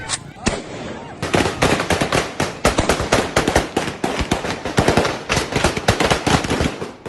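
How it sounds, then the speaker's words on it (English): AK-47 rifles fired by Taliban police to disperse women demonstrators in Afghanistan, loud rapid volleys of gunshots cracking in dense, overlapping bursts close by for several seconds. "Taliban police unload magazines from their AK-47s to disperse the demonstrators"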